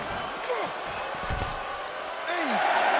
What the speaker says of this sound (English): Oh, heavy contact into the steel steps.